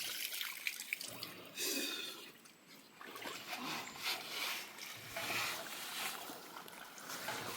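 Hill water running down from the Sahyadri range in rural Kokan, a steady broadband rush and trickle with gurgling surges, moderately close and continuous throughout.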